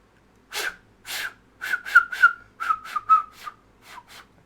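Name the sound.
person whistling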